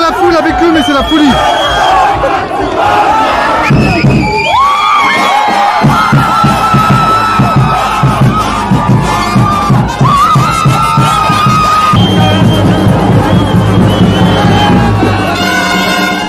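A dense festival crowd at the Diablada de Pillaro in Tungurahua, Ecuador, shouting and cheering loudly all around, a constant close roar of voices with rising yells and chanting throughout.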